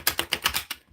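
Tarot cards being shuffled, about six quick crisp riffling bursts in a steady rhythm, close and moderately loud, with no voices.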